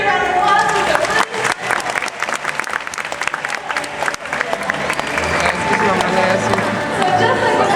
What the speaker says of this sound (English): Everyone give Avery a round of applause.